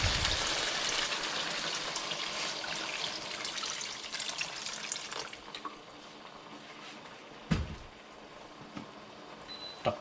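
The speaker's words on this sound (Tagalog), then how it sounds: "At saka natin lagyan ng tubig para palambutin." Water pours steadily into a cooking pot of beef pares already seasoned with soy sauce, fish sauce and sugar, a continuous loud gushing that fades out partway, followed by a few quieter clinks and knocks.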